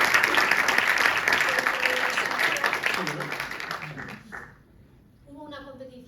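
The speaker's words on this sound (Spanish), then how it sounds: "¿Ya le hemos aplaudido por lo que ha conseguido en el Mundial?" Audience applause at a sports mental-health conference, dense broadband clapping that holds steady for about four seconds, then fades out, with a brief voice heard as it ends.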